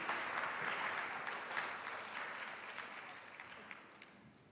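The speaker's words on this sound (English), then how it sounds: "Round of applause, please." An audience claps steadily, a dense patter of applause that gradually tapers off, heard at a distance without voices.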